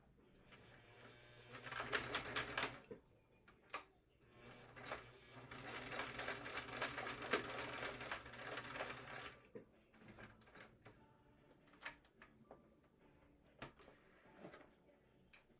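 A sewing machine runs test rows of top stitching in two quiet rhythmic bursts, each a few seconds long, followed by scattered clicks and handling of fabric.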